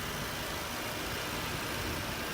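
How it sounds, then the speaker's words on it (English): A 2018 Audi A5 Sportback's 6-cylinder TSI engine idles under an open hood, giving a steady, even hum with no revving or voices. "So it's the Audi engine. It's the TSI engine, 6-cylinder."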